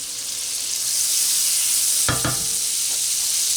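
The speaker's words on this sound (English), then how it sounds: "we're going to put it in a hot pan" Butter sizzles steadily in a hot pan before searing sous vide garlic and rosemary pork chops, a close, continuous hiss broken by a brief clunk and scrape partway through.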